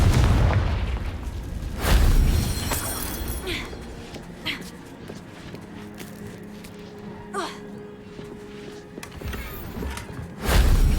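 Confringo spell blasts in Hogwarts Legacy go off as several booming explosions with debris crackle, spaced apart across the stretch. A short voice is heard between blasts.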